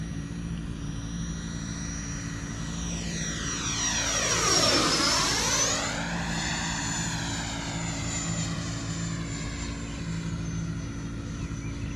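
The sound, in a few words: small model airplane flying overhead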